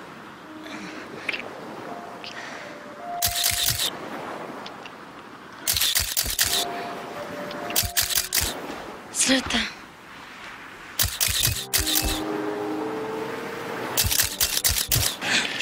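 A single-lens reflex camera fires off sharp shutter clicks in quick bursts of several frames while someone is being photographed, with brief spoken voices and a faint background between the bursts.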